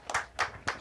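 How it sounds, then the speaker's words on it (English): Three separate bursts of hand clapping from a studio audience at a go-go music show, each short flurry spaced about a quarter second apart, fairly close and moderately loud. "Give yourselves a round of applause."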